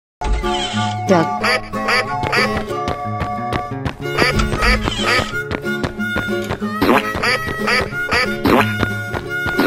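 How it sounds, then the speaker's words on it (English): Duck quacks sound over and over amid busy animated music and cartoon effects, loud and close throughout. "Duck."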